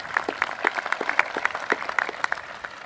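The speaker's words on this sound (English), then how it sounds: "Yes, we can applaud for those folks" A graduation ceremony audience at a high school commencement claps, with distinct, fairly close individual hand claps in an uneven rhythm over a few seconds.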